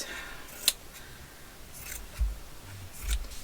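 Scissors cut paper for the cover of a soft cover commonplace journal, a few short crisp snips spaced apart, fairly close and quiet, with no talking.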